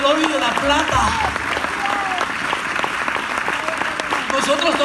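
An audience at a church service claps in sustained applause, with voices calling out over the steady clapping.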